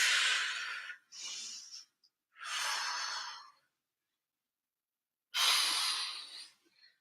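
Four separate breathy exhales during a Pilates crisscross exercise, each lasting about a second, with silent gaps between them; close, clear, and free of talk.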